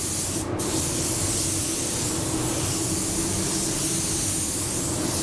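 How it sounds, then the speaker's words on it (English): An Ultra 9K paint sprayer lays down a second coat as a loud, continuous, close hiss of spray that runs unbroken throughout, with no voices. "Let's get our second coat on."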